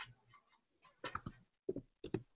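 Close, quiet keystrokes on a computer keyboard arrive as a few short bursts of crisp clicks separated by brief pauses.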